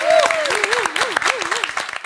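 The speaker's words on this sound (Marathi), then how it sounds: "तुफान आलया या स्पर्धेची जोरदार टाळ्या." Applause from a crowd at a Marathi water conservation competition event, loud rhythmic clapping mixed with a held, wavering musical tone or chant rising and falling over it.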